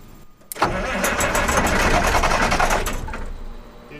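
A Perkins six-cylinder diesel on a Massey 860 combine cranks hard to start, a loud, dense rattling churn that begins abruptly and grinds on steadily for about two and a half seconds before fading.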